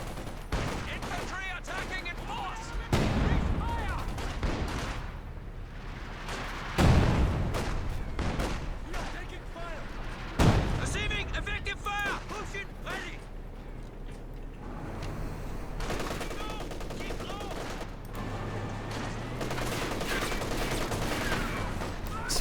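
Battle gunfire in a real-time strategy video game match, continuous rattling machine-gun bursts and scattered heavier shots over a dense background din, with a voice talking over it.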